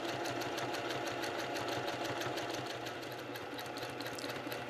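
A sewing machine runs steadily close by with a fast, even rattle of stitches while piecing a quilt around a circle using a quarter-inch foot, humming on without pause and with no talking.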